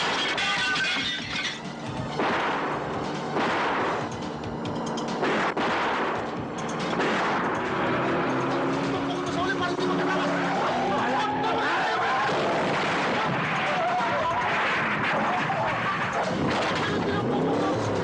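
Gunfire in a Filipino action movie shootout, repeated sharp bursts and bangs mixed with crashes, under frequent shouting voices throughout.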